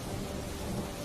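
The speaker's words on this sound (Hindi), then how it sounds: "बारिश की आवाज आ रही थी" Steady, even rain hisses close by with a low rumbling underneath, a continuous wash of sound with no voices.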